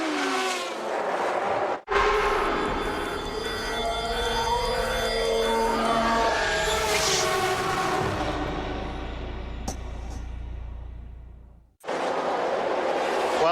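GT race cars race at Monza during an FIA GT round, with a loud, sustained engine roar and gear-change swells. A sharp cut interrupts it near the start, and a second cut breaks it near the end.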